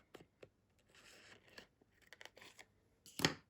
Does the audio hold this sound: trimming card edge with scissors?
yes